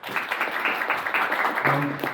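A conference audience gives steady, continuous applause after a technical talk on low-level Linux, a dense patter of many hands with a voice briefly heard near the end.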